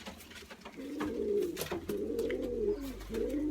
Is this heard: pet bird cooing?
yes